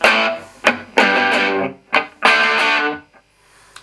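An electric guitar played through an amp with a distorted rock tone rings out in big open chords, loud and close, several strummed hits sustaining then cutting off, with a short pause between phrases.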